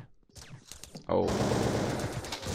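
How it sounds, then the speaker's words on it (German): Rapid gunfire sprayed blindly in Counter-Strike 2D starts abruptly about a second in and continues as a dense, loud burst, following some quieter game noises. "Schießen einfach ins Blinde und finden das Korn dann."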